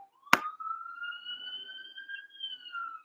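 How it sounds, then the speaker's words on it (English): A siren wails outside, heard at a moderate distance, with a sharp click at the start and then a steady rising and falling tone that holds for a few seconds, with no voices. "there's sirens and helicopters and all kinds of things"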